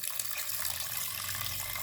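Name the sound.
water being poured into a cooker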